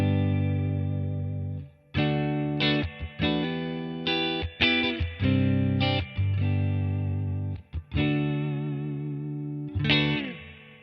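An electric guitar plays through a Headrush Valve King Clean amp model into a 1x12 Black Panel Lux cabinet with built-in reverb: clean sustained chords and notes in a steady strummed rhythm, alone and up front.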